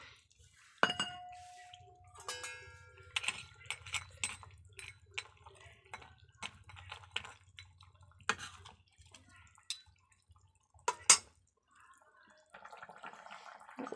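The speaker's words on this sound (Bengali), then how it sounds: "এবার দিয়ে দেবো ভেজে রাখা বড়িগুলো।" Fried lentil dumplings dropped one by one into a simmering fish curry with potatoes and drumsticks, making soft plops, wet splashes and light clinks of a spoon against the pot, close by, with quiet pauses between.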